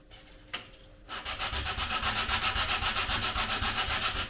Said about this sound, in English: So we're just gonna try to sand it and see how it is.